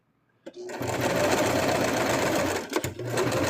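A sewing machine stitches along the edge of plush toy fabric, a steady close whirring run that starts abruptly, holds for about two seconds, then briefly stutters and resumes.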